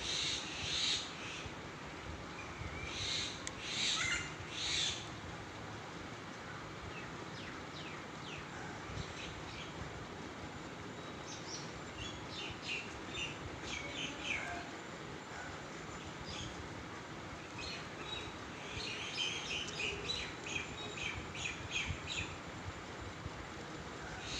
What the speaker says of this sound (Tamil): மைனா கத்துறது பாருங்கள்